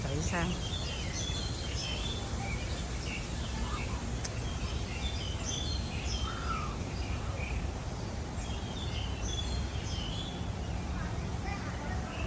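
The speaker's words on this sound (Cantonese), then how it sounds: "幾多雀仔聲！" Birds chirping and calling, some crow-like caws among them, in a park in Yuen Long, Hong Kong; scattered light calls over a steady outdoor hum of distant traffic, with no talk.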